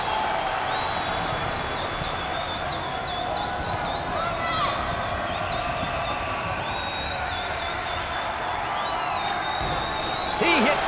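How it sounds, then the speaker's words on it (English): A packed basketball tournament arena crowd at an Oklahoma State versus UCF game roars continuously with shouts and whistles, the noise rising near the end. "Listen to the crowd."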